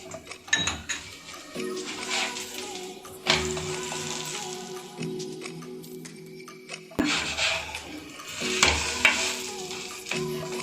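Egg-stuffed paratha fries in a little oil on a pan, giving a steady crackling sizzle broken by scraping and clinking as it is handled and turned, with louder bursts at intervals and no talk.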